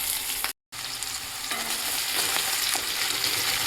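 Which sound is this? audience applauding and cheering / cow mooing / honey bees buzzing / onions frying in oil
onions frying in oil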